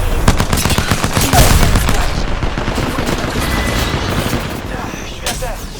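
A player shoots and reloads in a video game, with loud rapid gunfire bursts, a heavy impact and then quieter mechanical clicks, while game voice lines speak over the action.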